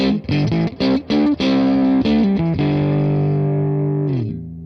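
Electric guitar played through a Fender Twin Reverb Tonemaster amp, a run of short choppy distorted chords and notes that ends on a long sustained ringing chord fading slowly, loud and close with no talking.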